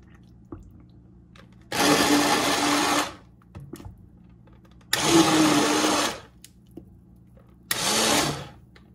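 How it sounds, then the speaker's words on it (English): An immersion blender whirs through soup in three loud bursts of one to two seconds each, with short quiet gaps between them and no talking. "I am going to use my immersion blender to just blend up a little bit of the soup"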